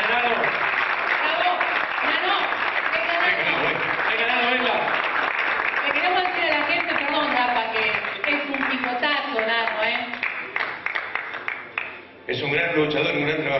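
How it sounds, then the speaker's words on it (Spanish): A crowd at an award ceremony applauds a winner, steady sustained clapping that fills the room, fading toward the end as it thins out. "Un aplauso para él."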